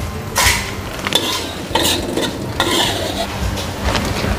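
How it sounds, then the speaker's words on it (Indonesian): Cooked oyster mushrooms for mushroom satay being moved into a container, with several clinking utensil scrapes and clatters against pots and dishes over a low background sizzle, close by. "Kita pindahkan ke dalam wadah."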